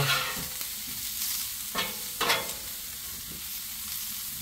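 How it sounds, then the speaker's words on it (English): Smash burgers and onions browning in extra virgin olive oil on a Blackstone griddle give a steady close sizzle, broken by a few sharp scraping or stirring strokes. "Let them brown with the oil."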